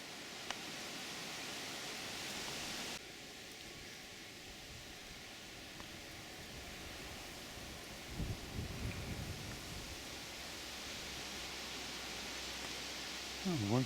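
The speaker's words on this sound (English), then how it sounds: "It's a windy day today." Wind rushes through a garden in late summer into autumn, a steady broadband roar, with gusts buffeting the microphone and a low rumble building partway through.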